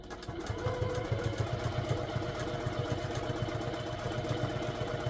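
A Juki TL 2000 Qi sewing machine stitching a jelly roll rug of fabric strips wrapped around batting: a steady, fast mechanical chatter with an even rhythmic pulse, running continuously and close by.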